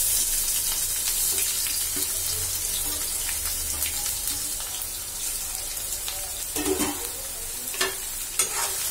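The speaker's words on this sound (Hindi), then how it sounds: "प्याज फ्राई हो रहे हैं" Chopped onions fry in a pan for a home-style egg curry, a steady close sizzle running throughout with occasional clinks and stirring scrapes near the end, no voices.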